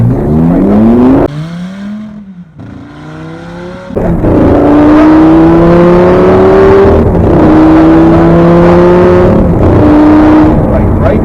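A supercar on a racetrack accelerates hard in a straight line, its loud engine note climbing steadily through the gears with a brief lift between shifts, close and continuous throughout.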